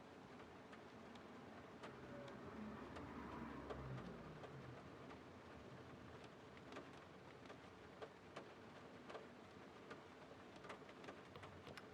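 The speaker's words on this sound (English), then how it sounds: "I do love the sound of the rain just dancing on the roof here of our dozer" Rain patters on the roof of a dozer in the game Roadcraft, a faint, steady wash of drops with scattered sharper taps and a low rumble early on.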